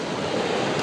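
Seawater washing up a beach in Hua Hin, Thailand: a steady, close rush of surf with a wind-like hiss, brief and continuous, with no voices.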